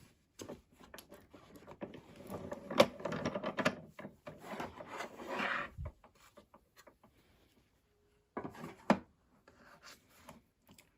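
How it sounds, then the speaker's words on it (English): An AccuQuilt fabric die cutter with a clear cutting mat, cutting six layers of fabric, is cranked through its rollers, giving a steady grinding, rubbing rasp for about six seconds, then a brief second burst after a pause. "Slide it in to where the rollers are. And then begin cranking."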